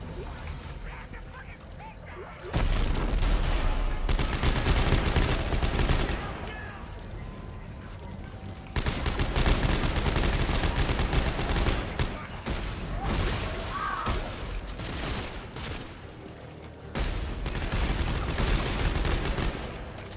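Gunfire from the sci-fi shooter Dead Space 3 in co-op play aimed at snipers comes in repeated loud bursts and volleys, with short lulls between them and a voice occasionally talking over the shooting.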